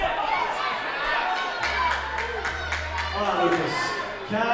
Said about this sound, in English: Crowd getting behind Kat Karkner, and she's going to secure the finish